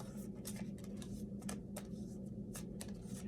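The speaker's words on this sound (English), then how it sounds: "I'm just gonna shuffle these because it's a lot." Tarot cards are shuffled during a pick-a-card reading, giving a series of quiet, crisp riffling bursts and soft slaps at irregular intervals over low background hum, close and faint.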